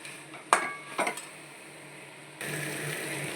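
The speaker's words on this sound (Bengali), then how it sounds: "এবার এর সঙ্গে ভালো করে মিক্স করে কষিয়ে নিতে হবে" Banana flower curry is stirred in a pan, with two or three sharp spoon clanks against the metal followed by a steady, quiet sizzle of frying.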